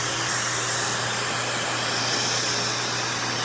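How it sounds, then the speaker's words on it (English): A blow dryer runs on its cool setting while being used on hair, a loud, steady, unbroken whoosh of rushing air close to the listener. "So when you take the blow dryer and you take it off its heat setting, pull down, run your fingers through your hair."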